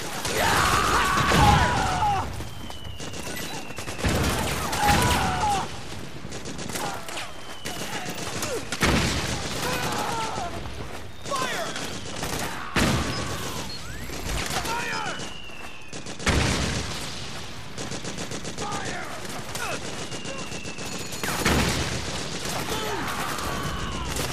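Grenade blast and rapid gunfire in the Metal Gear Solid 4 video game, loud bursts and booms recurring across the whole stretch amid battle noise, with voices calling out over the combat.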